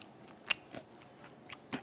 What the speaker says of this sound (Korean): 바삭바삭 소리?